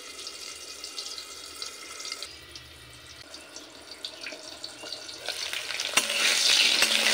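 Potatoes sizzle and crackle steadily in a hot pan, with light stirring clinks; the frying grows louder and hissier toward the end.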